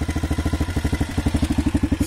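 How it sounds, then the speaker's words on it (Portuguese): A Honda XLX 250R motorcycle engine with a badly running carburetor chugs steadily up close, a loud, even, rapid thumping pulse throughout with a faint rattle. "Olha o motor."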